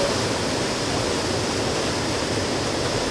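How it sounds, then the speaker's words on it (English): Waterfall in Kieni Forest, a dense, constant roar of falling water, loud and close with no voices over it. "Magnificent waterfall."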